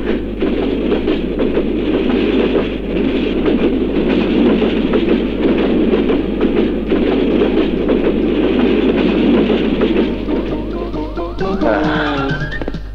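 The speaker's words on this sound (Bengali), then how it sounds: "আরে কত বড় ট্রেন" A big train rolls past close by, with a loud, steady rumble and rhythmic clatter of wheels on rails throughout and a brief metallic squeal near the end.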